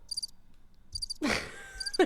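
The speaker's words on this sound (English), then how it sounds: "Crickets?" Cricket chirping sound effect plays in short bursts, high-pitched trills repeating between other noises, fairly clear with no talk over it.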